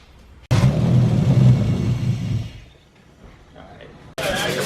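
A Nissan Skyline R34 engine being coaxed to run after a fuel adjustment, a loud close-up rumble with a rising rev that fades back toward idle, then another sharp burst at the end, with people talking around the car.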